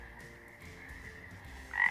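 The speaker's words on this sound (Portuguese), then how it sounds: "Isso mesmo, o sapo!" A single frog croaks in a short, clear burst, with a held tone and a louder call near the end, alone without any talk.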